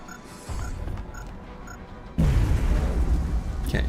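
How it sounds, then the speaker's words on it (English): A grenade detonates in the strategy game XCOM Long War, a sudden loud blast after a quieter stretch of game ambience, its rumble sustaining to the end. "Maybe I'll just hit him with a grenade."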